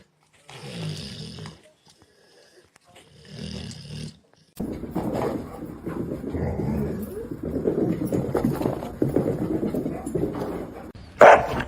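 A pet dog at home barks and whimpers close by in short bursts at first, then in a longer stretch of continuous grumbling, growly vocalizing, ending with a sharp, high yelp.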